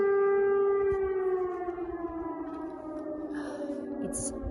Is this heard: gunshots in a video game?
no